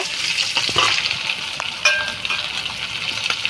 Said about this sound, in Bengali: মাছটা একটু ভেজে নেব